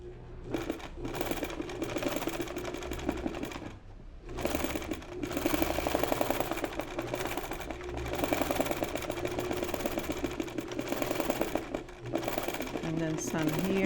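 A sewing machine stitches embroidery onto a watercolor painting in several bursts of rapid, buzzing mechanical chatter, separated by short pauses, close and fairly loud.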